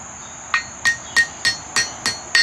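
A hammer strikes metal six or seven times in a steady rhythm, each blow a sharp ringing clang that decays quickly. The sound is close and loud with no voices.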